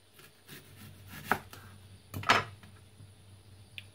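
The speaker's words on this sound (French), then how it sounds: "L'oignon va couper en filets." A knife cuts an onion into strips on a board, giving a few separate chops at irregular spacing, with two louder strokes standing out against a quiet room and no talking.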